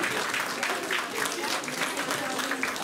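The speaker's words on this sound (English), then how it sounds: "Round of applause for Dorothy!" An audience at a comic con cosplay contest claps steadily and fairly loudly, with dense crowd applause running throughout and no clear gaps.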